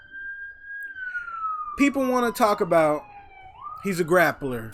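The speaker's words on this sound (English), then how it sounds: "Excuse the sirens if y'all hear them. I live by a hospital." A police siren wails outside a home near a hospital. It rises and falls steadily, fairly loud, and a voice talks over part of it.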